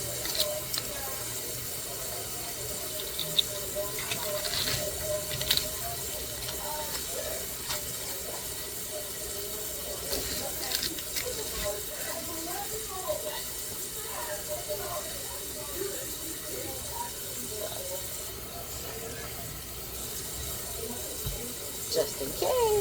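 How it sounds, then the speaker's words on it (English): Tap water runs into a kitchen sink to soak food for dinner, a continuous close hiss and splash that fills the sink steadily for the whole stretch. "I am going to soak it in water."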